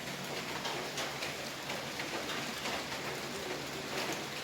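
Steady, dense rain falling and pattering on surfaces nearby, a continuous hiss with no voices over it.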